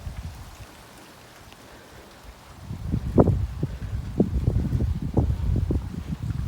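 Ice-storm rain falls in Mesquite, Nevada, starting as a faint hush and swelling after a few seconds into a steady, close patter of drops with some wind buffeting the microphone.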